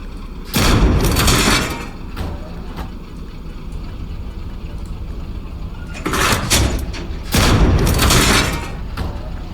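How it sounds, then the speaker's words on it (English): A BMD cannon fires in a video game: a few heavy booming shots, one near the start and a pair later, each with a roaring tail, over steady engine rumble. "the BMD has also received another shooting sound for its cannon"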